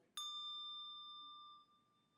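A handbell at a Christmas handbell concert sounds a starting pitch, a single clear struck tone that rings out and slowly decays over about two seconds in a quiet room.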